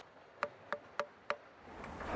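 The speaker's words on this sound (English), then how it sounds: "We use this tool, the little hammer, to listen how the stones sound." A small hammer taps stone to test its sound, four clear, ringing metallic clicks spaced evenly about a third of a second apart, close and alone before a soft noisy hiss rises.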